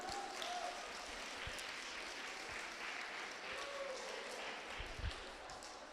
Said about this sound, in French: On les applaudit s'ils sont parmi nous.